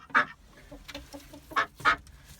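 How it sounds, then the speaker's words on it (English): A backyard chicken gives several loud, abrupt clucks spaced irregularly, with softer murmuring clucks between them, close by and with no talking. "This chicken does not like me whatsoever."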